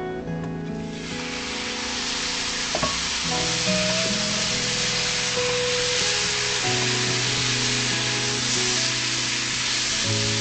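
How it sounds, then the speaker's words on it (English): Beef frying in hot oil that was already toasting, giving a loud, continuous close sizzle that hisses steadily with faint clatter from stirring and no talk. "Now I'm going to add the beef."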